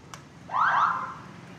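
The horn of a Falcon 180i motorcycle gives one short, clear, fairly close honk lasting under a second in a quiet setting.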